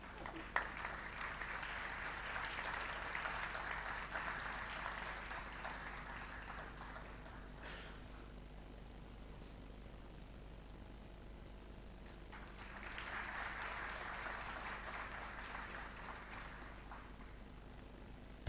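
Audience applause at a graduation and convocation ceremony swells in two faint bursts of clapping, heard from a distance in a hall with a low hum beneath and a quieter gap between the rounds.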